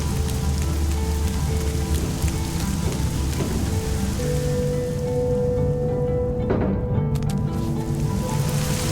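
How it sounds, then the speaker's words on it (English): Steady rain pours in a video game's outdoor scene, a continuous dense patter on surfaces with soft drips and a faint low rumble, filling the whole stretch without speech. "When it rains, it makes puddles."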